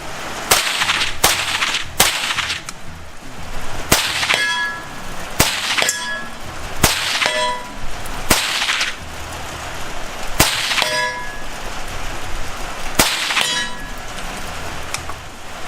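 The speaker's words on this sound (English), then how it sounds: "all that sound is coming from the supersonic crack as that round flies down range" Supersonic cracks of Tavor X95 300 Blackout rifle rounds at a range, sharp and loud at irregular intervals, each snapping with a metallic ring, over a steady hiss of rain.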